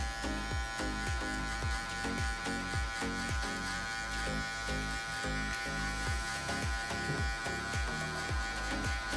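Electric hair clippers with a number 1 guard set open cut hair for a mid skin taper, giving a steady close buzz with repeated short passes through the hair.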